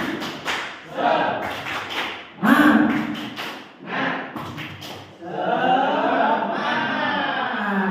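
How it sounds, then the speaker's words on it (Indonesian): Teachers in a school session on positive culture perform a 'tepuk semangat' clapping chant together: bursts of rhythmic group clapping and thumps alternate with chanted voices, ending in a sustained sung phrase. "Ayo, tepuk semangat"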